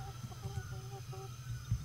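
Chicken clucking in the survival video game Atlas, a few soft, short clucks under steady low game ambience, fairly faint.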